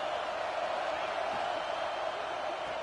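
A stadium crowd in the College Football 26 video game, at a Michigan versus South Carolina matchup, keeps up a steady, fairly faint roar of cheering that stays level throughout.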